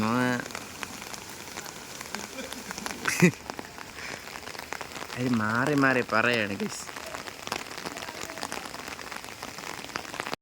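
Rain pattering steadily on surfaces and an umbrella during windy weather, a constant close hiss beneath someone talking, with brief louder bursts in the middle.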